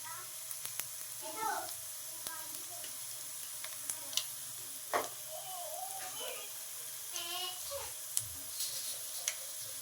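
Mustard seeds and cumin crackling in hot oil with crushed dried red chillies for tomato chutney, a soft continuous sizzle with scattered pops and stirring, heard under a voice talking.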